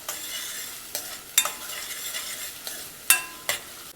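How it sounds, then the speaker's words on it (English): Chopped onions sauté in a pan for palak paneer, a close, steady sizzle broken by several sharp spatula scrapes and clinks against the pan. "I'm going to saute these onions until they change the color"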